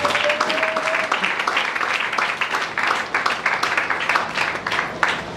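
A church congregation claps for the Lord, loud and close, with rapid overlapping handclaps in an uneven, lively rhythm that holds steady throughout.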